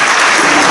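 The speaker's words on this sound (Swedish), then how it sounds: "En varm applåd för Kushin." A burst of warm applause from an audience at a school parents and teachers event, loud dense clapping from many hands for the whole short moment.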